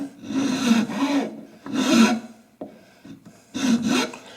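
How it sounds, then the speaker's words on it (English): Wood file rasping back and forth across the side of a wooden rifle stock for an Arsenal AK, in three loud, steady bursts of strokes with short pauses and a small knock between. "just take a wood file and file the two sides"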